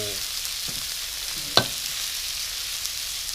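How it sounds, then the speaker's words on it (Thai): Holy basil stir-fried with sausage in a hot pan for Thai pad kaprao, a steady loud sizzle with a sharp clank of the spatula near the middle, close up and without talk. "ผัดกะเพรา"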